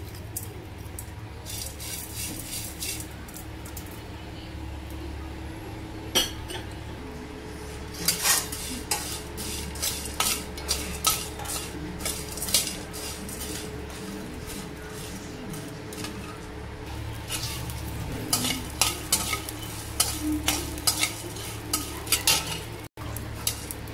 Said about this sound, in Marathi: आता डिंक भाजायला टाकते